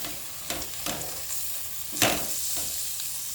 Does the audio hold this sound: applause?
no